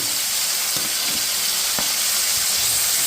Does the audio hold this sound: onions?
yes